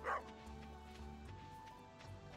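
A pet dog in Stardew Valley gives a quick soft bark or yip at the very start, then the game's quiet background sound carries on with no further barking.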